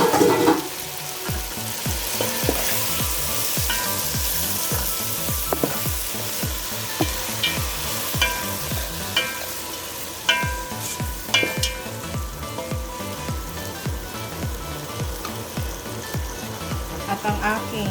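Frozen mixed vegetables fry in a hot pan with a steady loud sizzle, broken by repeated scraping and stirring strokes of a utensil throughout.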